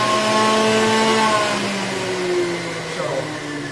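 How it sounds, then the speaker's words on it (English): A centrifugal juicer's loud, high-pitched whirring motor spins steadily with a whining, jet-engine-like roar, shifting slightly in pitch as it runs. "Now, the centrifugal juicer is a little different."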